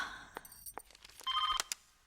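A telephone ringing in an emotional Hindi film scene, a short electronic ring with bright tonal bursts around other faint clicks, quiet and brief.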